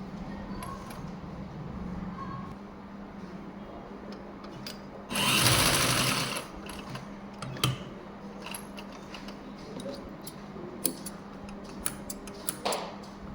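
A sewing machine stitches a blouse sleeve design in one short, loud burst of about a second, surrounded by quiet ticks and light handling clicks of fabric and tools.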